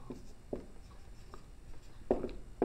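A pen scratches out a few short strokes on paper during a maths lesson, quiet and close, in separate bursts with pauses between them and no talking.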